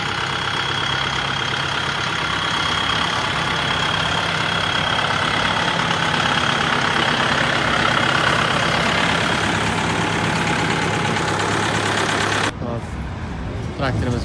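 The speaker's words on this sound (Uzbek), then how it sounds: "Traktorimiz mana keldi." A Fora 1004 tractor engine runs at a steady idle for about twelve seconds, a loud, continuous low rumble and drone that drops off abruptly near the end.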